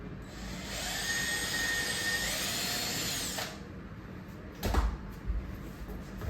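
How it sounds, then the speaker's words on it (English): A power drill whirs steadily for about three and a half seconds while driving into quarter round and baseboard trim, then stops, followed by a couple of brief knocks and handling thumps close by. "These are going to be drilled into the baseboard."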